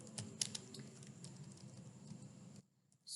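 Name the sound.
typing a command on a computer keyboard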